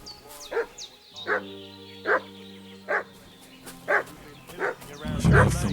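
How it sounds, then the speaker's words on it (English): A dog barks in Kingdom Come: Deliverance 2, with about seven evenly spaced barks heard nearby over a low game background. A rumble rises at the end. "What's that dog making such a fuss about?"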